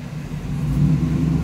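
A loud, deep, rumbling straight-piped Yukon exhaust, glasspack mufflers removed, idling and revving slightly, a steady low growl close by with no voices.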